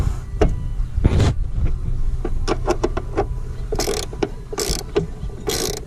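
Ratcheting clicks and metallic mechanical rattles as a part is screwed back in during a rear disc brake conversion on a Honda EF sedan, in several close bursts with short pauses, no talk.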